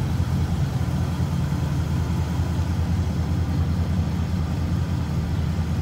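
A 1950 Ford Club Coupe flathead engine idles smoothly and steadily, a low, even rumble held at a constant level close by with no voices over it.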